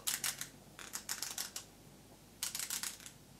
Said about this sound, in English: All they have is the usual standard clicky ring.